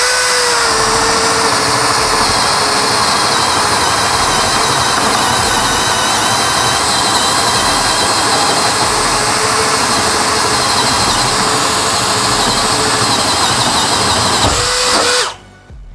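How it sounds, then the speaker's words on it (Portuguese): A Bosch GSB 185-LI cordless drill bores steadily with a 24 mm spade bit, a loud continuous whine held for about fifteen seconds before cutting off abruptly at the end. "Agora a broca chata de 24 mm."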